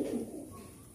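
Andhra breed pigeons give a short, soft coo at the start, fading quickly into quiet background, heard close and alone.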